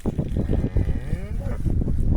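Cattle on a village farm, including Angus, moo once in a drawn-out low call over a steady background of nearby shuffling and noise.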